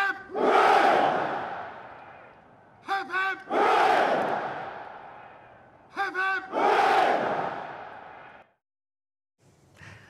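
Soldiers at Buckingham Palace roar cheers for the newly crowned King and Queen in three loud, sustained bursts of massed shouting. Short pauses separate each burst, and a faint fourth begins at the end.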